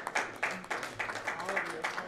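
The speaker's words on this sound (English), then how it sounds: "I want a big round of applause for our Board of Education" Faint applause from a school board meeting audience honoring the Board of Education, a steady patter of clapping running about two seconds with a voice talking over it.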